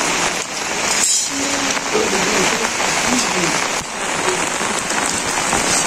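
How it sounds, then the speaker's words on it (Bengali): Heavy rain pours down steadily on surfaces around a village home during a week-long rainy spell, a dense, constant patter close by with a voice briefly heard underneath. "এই বৃষ্টি যাওয়ার না"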